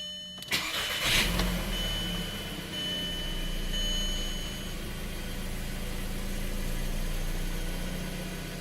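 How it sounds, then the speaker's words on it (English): A 2004 Audi A3 engine starts with a brief crank and then settles into a steady, even idle, a low continuous hum close by with no talk. "We're just running the car to see if we can find the coolant leak."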